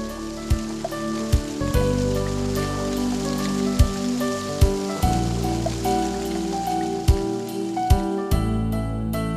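Monsoon rain patters steadily in a forest in Periyar Tiger Reserve, a loud continuous hiss under music with sharp rhythmic hits and sustained tones.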